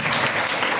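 A church congregation applauds, a dense burst of many hands clapping together, loud and close, very brief.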